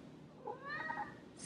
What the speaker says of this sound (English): Silly, silly cat.